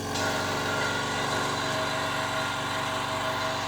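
A Vevor 40-litre silent air compressor starts up and runs with a steady, droning motor hum and dense mechanical chatter. The sound is close and continuous at an even level throughout, with no one speaking.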